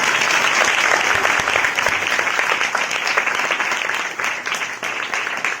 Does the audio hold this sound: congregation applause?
yes